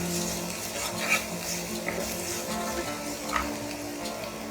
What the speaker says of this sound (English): Again, saute for a minute.